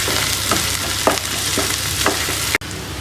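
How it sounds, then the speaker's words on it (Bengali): Leafy greens fry in hot oil in a pan with a constant close sizzle, while a spatula scrapes and stirs in rhythmic strokes about every half second, ending in a sharp knock. "শাকগুলো ঢেলে দিয়ে নাড়তে থাকবো, নাড়তে থাকবো"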